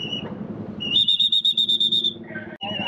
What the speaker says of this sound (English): you'll see this everywhere with people with whistles where they conduct the traffic